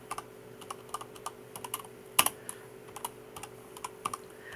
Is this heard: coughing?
no